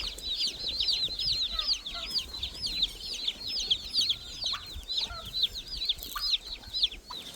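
Meat chickens in a chicken run keep up a dense, continuous chorus of high clucks and chirps, close and lively, with scattered lower clucks underneath and no speech.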